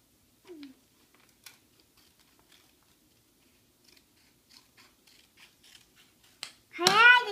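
Scissors snip paper during a children's cut-and-paste worksheet activity, giving a few faint, sparse clicks and snips spread across the moment, with a brief child's vocalisation early on and a louder burst of voice at the end.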